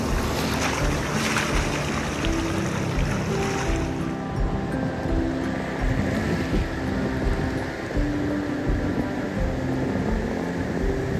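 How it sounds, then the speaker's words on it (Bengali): Sea waves wash back and roll in again on the open beach at Mandarmani, a steady broad surf roar with a wash of spray, constant and fairly loud with wind and no voices. "জল ফিরে যাচ্ছে, আবার ঢেউ এগিয়ে আসছে, এই সমুদ্রের খেলা চলতেই থাকে।"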